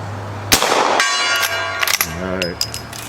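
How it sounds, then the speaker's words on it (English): An 1860 Henry rifle fires at a steel gong: a sharp report followed by a bright metallic ring that lingers, with a second shot and clang, then brief voices and another faint ring. "we haven't shot the gong"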